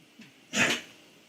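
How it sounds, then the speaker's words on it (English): A dog sneezes once: a short, sharp, breathy burst in the middle, close by, with quiet surroundings before and after. "Dogs sneezing all over the place."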